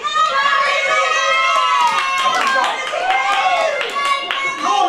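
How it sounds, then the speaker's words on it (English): Crowd at a 2009 mascot race clapping steadily and cheering, a dense continuous wash of applause with raised voices and children calling out throughout. "Right, let's cheer them on then."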